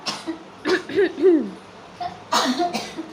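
A person coughing several times in rough bursts at close range, with brief vocal sounds in between.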